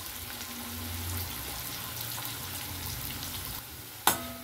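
Onion and garlic fry in a pan with a continuous close hiss and light stirring, ending in a sudden clatter or knock just before the finish; no voices.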